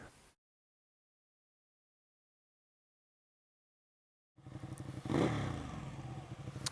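Suzuki DR 650 motorcycle being ridden on twisty roads: a brief engine burst, about four seconds of silence, then a steady, close engine note with a rise in revs.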